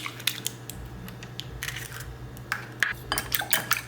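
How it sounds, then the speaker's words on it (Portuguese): A fork beats an egg in a bowl for a quick muscle-building breakfast, making rapid, irregular metallic clinks and scrapes against the dish at close range. "Com o garfo você vai fazer a misturinha aí, mexendo o ovo com o auxílio de um garfo."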